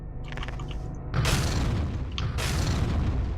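Two heavy booming launches from a video game grenade launcher, each a deep thump with a crackling burst trailing off, the second following about a second after the first, fairly close.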